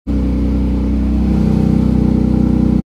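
A Porsche 911 GT3 engine idles steadily up close, a deep, even rumble with no voices, cutting off abruptly near the end.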